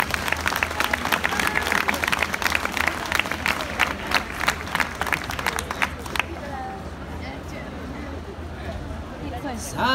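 A crowd applauds the Ballu Cantau folk group of the Onnigaza cultural association from Ghilarza, with dense, lively clapping that runs for about six seconds and then stops, leaving a quieter room.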